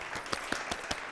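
A television morning show studio audience applauds in a short burst of steady clapping, with a few sharper individual claps standing out above the wash.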